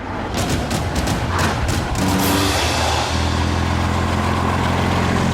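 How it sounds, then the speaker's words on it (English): An old Rover fitted with a Rolls-Royce Merlin Spitfire engine drives along with a loud, deep, low-revving rumble that holds steady and thickens slightly as it pulls. "So what happens when you stick a Spitfire engine in an old Rover?"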